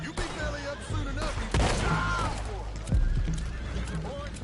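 In Red Dead Redemption 2, horses whinny and gallop amid a busy, noisy scene, with hoofbeats thudding underneath and voices shouting in the background.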